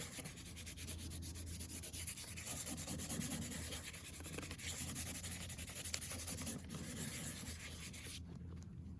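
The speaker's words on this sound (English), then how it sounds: "Next step is to rough this surface up a little bit. Sand and abrade is what the instructions say." Coarse-grit sandpaper scrubs steadily across a surface to roughen it, a continuous close, dry abrasive rasping that runs without pause and then cuts off at the end.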